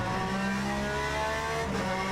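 A race car in the Le Mans Ultimate racing game, engine braking, gives a steady, dense mechanical drone that stays loud and constant for about two seconds.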